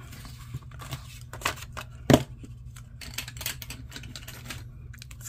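Scissors snip through paper planner inserts up close, a series of quick crisp cuts and paper rustles with one sharp louder snip in the middle, no voices.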